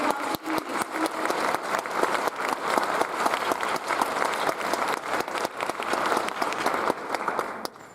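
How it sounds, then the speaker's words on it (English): Sustained audience applause fills a graduation recognition ceremony for a psychology and neuroscience department, dense steady clapping from a large crowd continuing for several seconds before tapering off at the end. "Please give her a round of applause."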